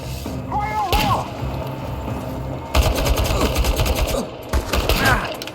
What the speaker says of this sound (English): he must be shooting me with the shotgun